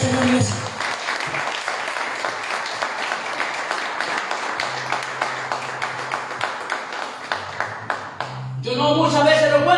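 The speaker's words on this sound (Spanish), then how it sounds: "El aplauso al Señor, iglesia." An evangelical church congregation applauds steadily through most of the stretch, a dense wash of many hands clapping at close range with some voices mixed in, before the clapping gives way to speech near the end.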